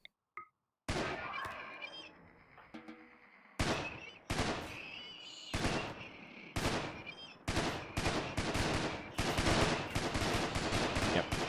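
Video game gunfire shooting enemies, a series of loud sharp bursts and rapid shot volleys that grow denser toward the end, with brief pauses between.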